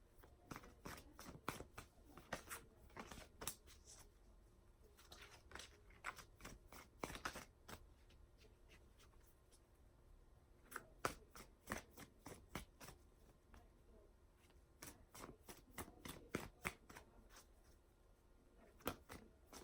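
A deck of tarot cards is shuffled by hand in quick bursts of riffling and slapping, pausing between rounds, fairly close and quiet with no talk.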